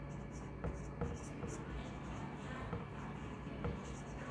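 Writing on a board during a grammar lesson, a soft, steady run of scratchy strokes repeating at a quick, even pace beneath a low background hum, close and fairly faint.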